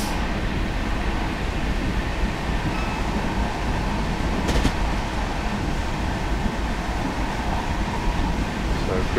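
In the video game Train Simulator 2017, a Class 66 locomotive cruises at about 60 mph while another train passes, heard as a continuous loud rail rumble and rattle with a brief sharper burst midway.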